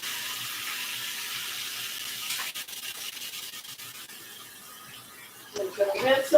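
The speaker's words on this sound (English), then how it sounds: "I'm going to rinse them. Give them a nice little rinse there." Fresh blackberries are rinsed under a running kitchen tap, with quiet water flow and rubbing, then a louder splash near the end, all faint behind a voice talking.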